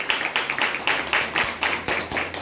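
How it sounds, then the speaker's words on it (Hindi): An audience at an indoor event claps loudly and together in a quick, even rhythm of sharp overlapping slaps, heard alone without speech. "जोरदार ताली"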